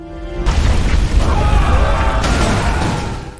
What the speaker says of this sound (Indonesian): tembakan meriam itu pun berhasil menghentikan kapal peledak tersebut